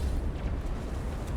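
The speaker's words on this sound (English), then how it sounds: "Shepard! Grenade him!" Grenade blast in the video game Mass Effect, a heavy, low rumbling boom that fills the moment with deep sustained bass, loud and close without voices.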